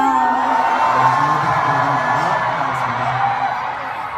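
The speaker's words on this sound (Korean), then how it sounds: "와, 방금 환호성 진짜 컸다" A large audience cheers and screams at a concert in Korea, a loud sustained roar of whoops and yells that fades slightly toward the end.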